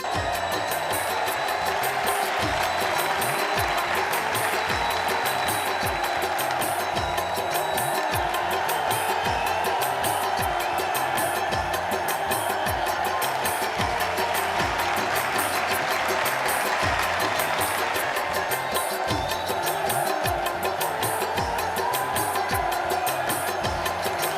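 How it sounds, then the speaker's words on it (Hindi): A studio audience at a comedy show breaks into loud, sustained applause with some cheering, a dense continuous wall of clapping that holds steady throughout. "जोरदार तालियां"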